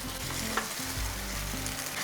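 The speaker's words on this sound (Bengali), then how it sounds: "এরপরে এটাকে একটু হাই ফ্লেমে রেখে একটু কষিয়ে নিচ্ছি।" Marinated jackfruit stir-frying on high flame gives a bright continuous sizzle, with rhythmic scraping strokes of the spatula repeating every half second or so, close and unaccompanied by voices.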